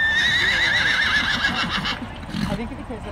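A mare at a fair horse show whinnies loudly and close by in a long wavering neigh, followed by shorter snorts and hoof sounds, with people talking nearby.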